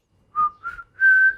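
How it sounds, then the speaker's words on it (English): A person whistles three short notes in quick succession, the last held longer, clear and close against near silence. "Can you whistle?"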